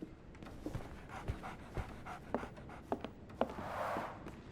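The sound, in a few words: dog panting, from the video game Sherlock Holmes The Awakened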